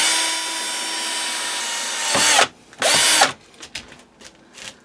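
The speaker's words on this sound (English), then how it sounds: "and I'm ready to drill my second hole." A drill bores a hole into a part held on a lathe, two loud bursts of steady high whine from 2 to 3.3 seconds, followed by quieter clicks and handling knocks; a constant machine hum runs underneath the first half.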